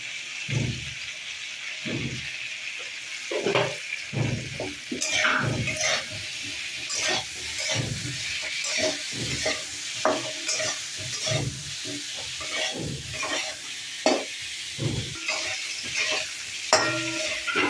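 Cauliflower and potato pieces fry in a pan with salt and turmeric, giving a steady close sizzle broken by repeated scraping stir strokes at an irregular rhythm, with no voices.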